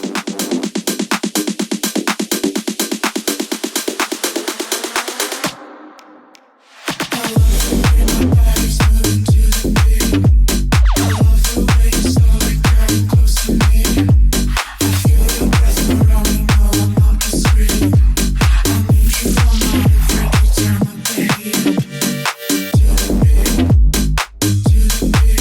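A tech house drop plays loud and dense: a buzzy synth build cuts to a brief silence, then a pounding four-on-the-floor kick with bass and bright synth stabs drives steadily, with no voice.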